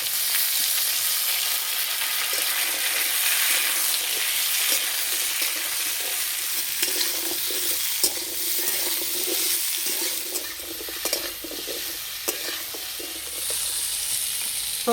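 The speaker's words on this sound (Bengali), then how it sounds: "সবজিগুলো একটু ভালো করে ভেজে নিয়েছি।" Pointed gourd, potato and pumpkin pieces fry in a pan with a loud, steady hiss and sizzle, broken by occasional stirring scrapes and clinks and no talk.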